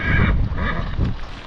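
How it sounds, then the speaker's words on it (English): A horse on a remote route whinnies close by, a short quavering neigh rising and falling over about a second with breathy rumbles after it. "The horses are not very obedient."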